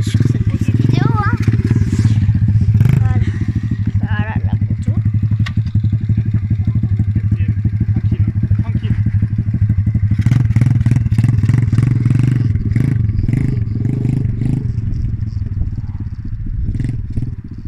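An Apollo RFZ 110 dirt bike engine runs loudly and close, a steady thumping idle with some clatter and brief revs, while someone talks over it.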